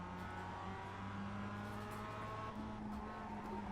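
A Mazda race car engine at Spa in the iRacing game hums at a steady, sustained pitch, droning continuously with slight shifts in tone and no speech over it.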